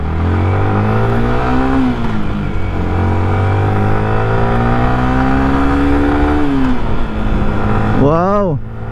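A 2023 Yamaha Sniper motorcycle rides through a subdivision road, its engine droning loud and close as the revs climb in long sweeps, easing off and rising again, then snapping through a quick burst of revs at the end.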